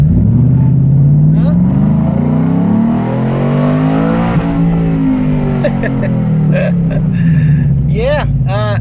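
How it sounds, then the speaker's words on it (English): A Cobra Jet F150 truck is held at full throttle on dyno rollers, its engine roaring loud and close as the pitch climbs steadily, with tire and roller noise and voices talking over it. "Let's put it in first and just stab the gas and see if it lights them up a little bit."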